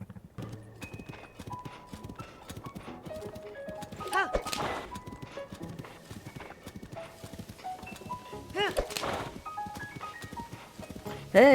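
Horse hooves clip-clop in a steady trotting rhythm in the Zelda Tears of the Kingdom video game, with occasional neighs and whinnies, close and clear under a light game music backdrop, and a voice talking over it.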